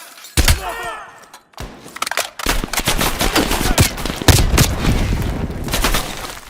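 Heavy suppressive gunfire in Call of Duty Black Ops Cold War, with loud sustained automatic bursts and sharp cracks over several seconds, close and dense, briefly broken by a pause before the firing resumes.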